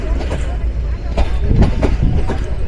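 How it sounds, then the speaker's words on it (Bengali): Nilsagar intercity express train entering Akkelpur railway station, a steady low rumble with rhythmic rail clatter and periodic wheel knocks, heard close from on board, with a voice talking over it. "আন্তনগর নীলসাগর এক্সপ্রেস প্রবেশ করতে চলেছে আক্কেলপুর রেলওয়ে স্টেশনে"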